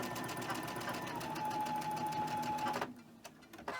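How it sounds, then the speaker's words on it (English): A sewing machine runs steadily for about three seconds, joining fabric quilt blocks together, then stops abruptly and leaves a few faint clicks. "just because I'm sewing 2 blocks at a time and adding them doesn't mean that you have to do that"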